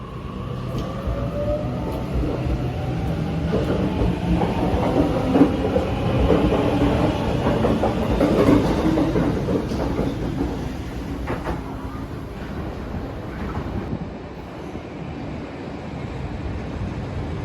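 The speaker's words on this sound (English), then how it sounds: "It's an empty freighter." An empty freight train rolls past on the line between Granville and Strathfield, a long steady rumble with rhythmic clickety-clack of wheels over rail joints, loud and close before fading toward the end.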